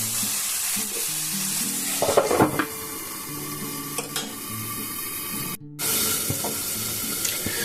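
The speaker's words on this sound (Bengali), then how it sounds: "মিডিয়াম ফ্লেমের মধ্যে দিয়ে এটাকে ভেজে নেবেন" Potatoes, onions and tomatoes fry over a medium flame in a steady loud sizzle, with clanks of a utensil against the pan and a brief break near the end.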